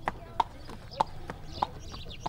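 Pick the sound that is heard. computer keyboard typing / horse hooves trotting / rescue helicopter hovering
horse hooves trotting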